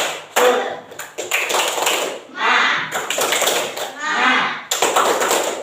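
Classroom of children doing the tepuk semangat clapping chant, sharp rhythmic claps in bursts mixed with loud chanting young voices, close and lively.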